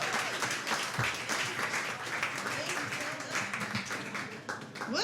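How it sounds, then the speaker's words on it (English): A comedy show audience in Miami applauds a comedian being brought to the stage, a dense, steady wash of many hands clapping that holds evenly for about five seconds at moderate loudness. "Please give a big round of applause for Jacky Baren"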